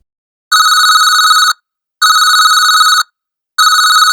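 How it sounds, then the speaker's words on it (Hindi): A mobile phone ringtone rings in three steady, evenly spaced bursts of about a second each, loud and close, with brief silences between and no voices. "तभी उसका फोन बजने लगता है।"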